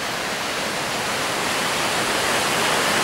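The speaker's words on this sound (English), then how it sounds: "You can hear in the background down here" Steady broadband rush of a stream flowing below a waterfall in a ravine at Queen Mary Falls, Queensland, Australia; a continuous, even wash of water noise with no voices.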